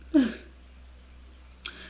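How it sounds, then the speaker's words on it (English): A single sharp sneeze bursts out near the start, followed by quiet and a faint breathy sound near the end. "I feel like I have to sneeze"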